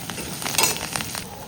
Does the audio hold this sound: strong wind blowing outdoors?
no